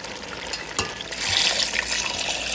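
Water pours into a cooking pot for a one-pot chicken biryani, starting with a brief splash and then swelling into a steady, close rushing fill that continues to the end, with no talking.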